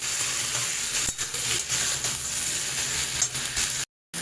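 Potatoes, eggplant, green chillies and tomatoes are stirred together in a frying pan for a hilsa fish curry, with a continuous sizzle, scraping spatula strokes and a short silent gap near the end.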